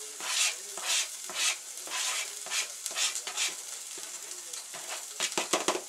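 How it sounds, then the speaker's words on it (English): Garlic sizzling in oil in a hot pan, a crackling hiss that comes in repeated bursts, close and fairly soft with no talk over it. "I'm going to add my garlic in."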